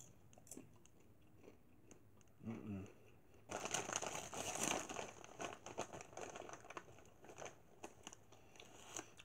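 Cinnamon toast crunch popcorn is chewed close to the mic, soft crunching and crinkly mouth noises that grow busier and louder partway through, with a brief voice early on.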